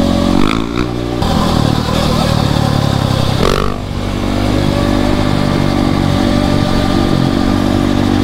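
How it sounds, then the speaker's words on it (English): A dirt bike engine revs loudly close by on a city street during wheelies, a steady buzzing drone with a quick throttle blip and a shift in pitch partway through, with no voices over it. "somebody on a Scooby-Doo dirt bike doing wheelies with us"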